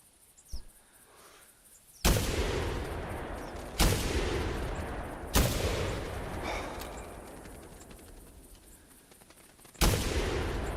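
Video game gunfire: four sharp, loud single shots spaced a second or more apart, each cracking out and then trailing off in a long, rumbling echo over a quiet background.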